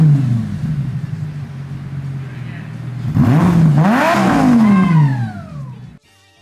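Lamborghini engine accelerating with a rising, wavering roar that climbs in pitch over a few seconds before cutting off abruptly, heard up close beneath low background murmur.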